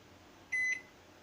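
A single electronic beep from an 1100 watt microwave oven keypad while the cooking time is entered, a clear tonal blip lasting about a quarter second over a quiet kitchen hush.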